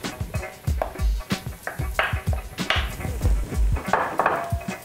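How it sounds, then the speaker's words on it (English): Walnuts tipped into a pot of sautéed onions for Iranian fesenjan chicken stew, giving a quick run of close clattering knocks and scraping against the pot in an uneven rhythm, with no talking. "So it's time to add the walnuts"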